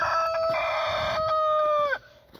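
A rooster crows once near the camera in a chicken run of four hens and two roosters, one long harmonic call that rises and bends down at the end before dropping away.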